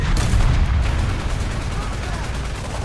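A tank cannon in War Thunder fires an 80 GM round from the barrel, heard as a heavy, booming blast whose rumble decays over a few seconds, loud and close.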